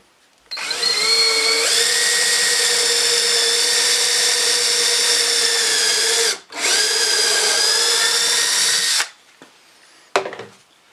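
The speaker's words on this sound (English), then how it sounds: "I'll drill for this." A power drill bores into wood during a painted chair build, a loud sustained whine running for several seconds, briefly stopping, then resuming before winding down, followed by faint handling clicks.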